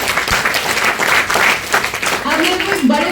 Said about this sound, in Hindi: ताली बजा दो।